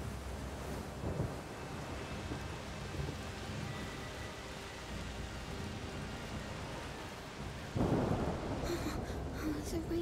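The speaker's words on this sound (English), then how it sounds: "The rain is getting worse." Steady rain hisses throughout while low thunder rumbles, with a heavier surge of rain and wind near the end.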